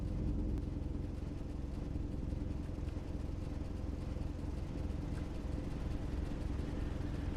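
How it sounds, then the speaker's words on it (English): Steady car engine drone from the driving simulator game Driving Life, a continuous mid-pitched hum with faint clatter and whir, loud and unbroken throughout with no talk. "so we're not just listening to nothing but engine noises"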